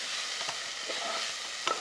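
Minced keema frying in oil in a pan while being stirred, a steady close sizzle with scraping stir strokes and a brief louder clatter near the end, no voices.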